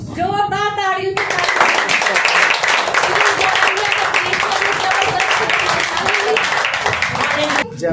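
A church congregation claps loudly and enthusiastically after testimonies at a Hindi-language healing service, with dense, energetic clapping beginning after a voice and cutting off abruptly near the end.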